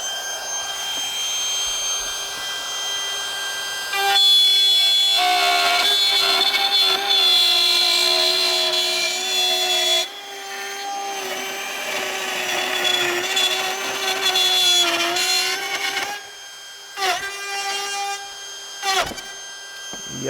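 A DeWalt cordless router spins up to high speed with a loud, piercing whine, holding steady for a long stretch with a few brief dips and surges in pitch near the end.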